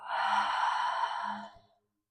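A deep yoga exhale through the mouth, one long breathy sigh close to the ear that gradually fades out into silence.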